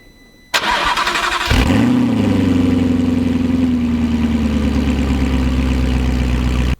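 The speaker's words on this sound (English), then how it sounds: "You will love the way this Audi sounds." An Audi R8 rally car engine cranks and fires up loudly, settling into a deep, steady, throaty idle that continues close and unbroken until it cuts off.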